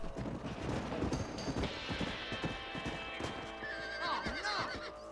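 Horse neighs and whinnies over the steady clip-clop of hooves in the video game Red Dead Redemption, the calls rising loud and close while the hoofbeats keep a running rhythm underneath.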